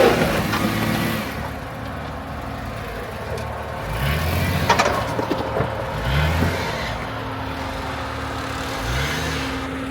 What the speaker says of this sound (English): Yeah, you're just spinning your tires.